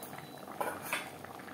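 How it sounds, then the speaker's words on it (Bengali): Paneer bubbling in gravy for matar paneer, with soft continuous boiling and a few louder pops and bursts. "গ্রেভির সাথে 3-4 মিনিট পনির বেশ ভালো করে ফুটিয়ে নেওয়ার পর"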